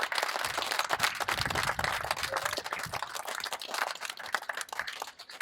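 Crowd at a Huddersfield trades union rally claps in support of striking bus workers, a busy, fairly distant patter of applause running throughout with no voices over it.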